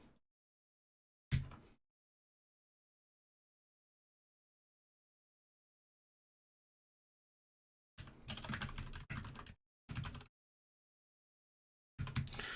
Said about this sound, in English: Jamming out to the keyboard clicks.